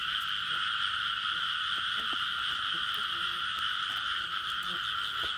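Frogs croak steadily at night in a loud, continuous chorus with dense pulsing calls, joined by scattered nearer clicks and croaks, several males calling around a female in a rural field.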